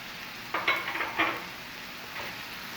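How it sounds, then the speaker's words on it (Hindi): Garlic-ginger paste frying with onions for an egg and onion bhurji, heard as a soft sizzle with a few short bursts of stirring and spatula scrapes against the pan, fairly quiet and close. "मिक्स करेंगे और इसको फ्राई करेंगे 1 मिनट के लिए।"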